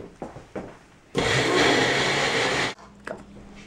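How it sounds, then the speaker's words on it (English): A kitchen blender whirs loudly and steadily for about a second and a half, blending a garlic and ground black pepper sauce for macaroni and cheese, with quiet handling clicks before and after. "Screw the blade top on. We're going to blend it all together."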